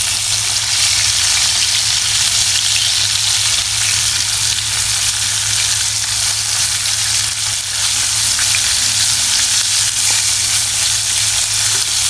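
Battered fish frying in hot oil in a pot over an outdoor wood fire in Jamaica, giving a loud, steady, continuous sizzle with no talking throughout.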